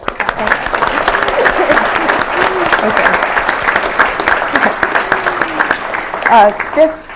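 An audience at a civic forum on Midwestern economic growth breaks into sustained, dense applause filling the room, with a voice briefly speaking near the end as the clapping carries on.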